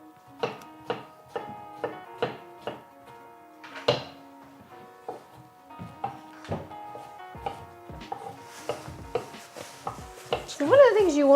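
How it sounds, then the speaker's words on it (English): Cucumbers chopped with a knife on a cutting board, a steady run of crisp, close knocks at a regular rhythm, a couple of heavier thumps, with a brief voice near the end. "you want to make sure to chop up your cucumbers nice and get them good and diced"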